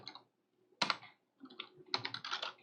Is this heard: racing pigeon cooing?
no